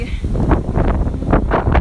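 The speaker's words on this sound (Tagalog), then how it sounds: "Mahangin at saka malamig." Gusty, cold wind at Grotto Bay Beach, Bermuda, buffets the microphone in uneven rushing bursts, loud and close.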